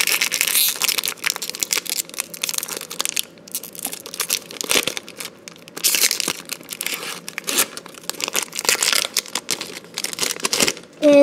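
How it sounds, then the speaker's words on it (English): Crinkling and tearing of a Pokémon Ancient Origins Mega Rayquaza booster pack foil wrapper, close and loud, in irregular rustling bursts with brief pauses, ending in a short clatter. "So I'm going to start off with this Ancient Origins Mega Rayquaza booster pack."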